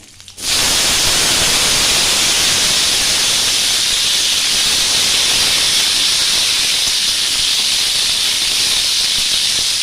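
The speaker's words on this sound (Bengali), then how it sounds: "এবার আমি আলুগুলো ছেড়ে দিলাম।" Small diced potatoes drop into hot oil and fry with a loud, steady, continuous sizzling hiss that starts abruptly and holds for the rest of the clip, close by and without talk.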